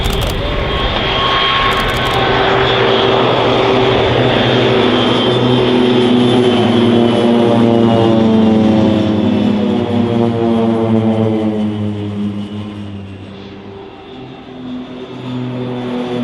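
A PC-17 propeller aircraft flies past at the RIAT airshow, a loud droning engine and propeller roar that swells as it passes close and then fades with a falling pitch as it moves away.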